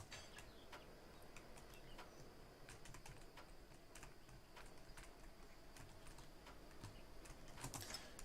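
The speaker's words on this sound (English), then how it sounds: "You can probably hear me fiddling around on the keyboard here" Faint, irregular clicks of a computer keyboard being typed on, tapping away quietly and alone for several seconds.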